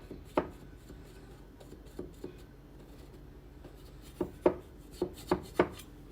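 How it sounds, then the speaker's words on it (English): A knife cuts carefully around a round cake pan while a sugar-free checkerboard cake is assembled, giving sparse, sharp scraping and tapping strokes, some isolated and a quicker cluster near the end, in a quiet room. "Cut around this pan here, because I'm making my first circle."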